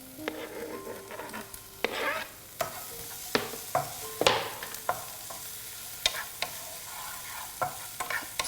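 Chilies fry in a hot pan while being stirred, with a steady sizzle broken by sharp, irregular clacks of the spoon against the pan, heard up close with no voices.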